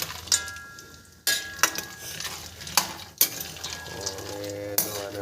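Almonds and cashews fry slowly in hot ghee over a low flame, giving a soft sizzle broken by sharp clinks of a spoon stirring against the pan, with no voices.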